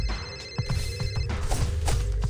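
An incoming voice call rings on a phone in a Teenage Mutant Ninja Turtles video game, a repeating electronic ringtone pulsing steadily over game music and ambience, loud and continuous throughout.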